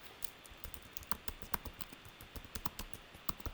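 Quiet, rapid keystrokes on a computer keyboard form an uneven stream of light clicks and taps with no voice over them.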